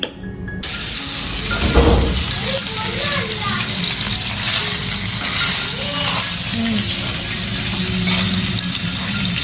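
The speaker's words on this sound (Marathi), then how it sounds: "पनीर देखील तेलामध्ये थोडेसे फ्राय करून घ्यायचं" Loud, continuous sizzle and crackle of paneer frying in hot oil, with occasional stirring clatter and faint voices underneath.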